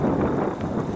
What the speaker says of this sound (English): It's about a 25 mile an hour wind.